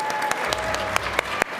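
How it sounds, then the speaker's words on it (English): An audience at a live tabletop game show at PAX Unplugged 2024 claps in a steady, dense round of applause, with a few sharper individual claps standing out. "this is the round of applause for the Jumpman"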